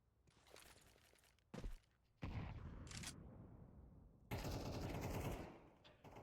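Bursts of rapid gunfire and single shots from a competitive esports match in a video game, arriving in sharp clusters separated by quieter gaps, fairly crisp and close.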